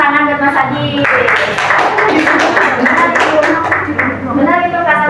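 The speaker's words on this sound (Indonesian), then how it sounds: "Tepuk tangan buat Mas Adi." Hands clapping in a classroom, a dense burst of applause from students lasting several seconds, framed by a teacher's voice talking before and after.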